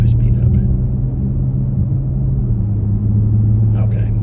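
A 2024 BMW X5 xDrive50e accelerating, a steady low rumble with a faint tonal hum from inside the cabin, smooth and continuous, with brief voice fragments at the start and end.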